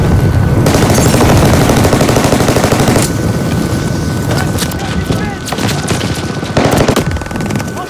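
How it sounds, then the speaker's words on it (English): Dense, continuous automatic gunfire in the multiplayer shooter Call of Duty Vanguard: loud, close and rapid, with bursts of shots blending into one another throughout. "Shit, I was getting shot in the back"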